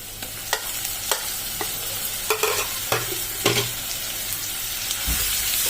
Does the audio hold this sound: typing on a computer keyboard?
no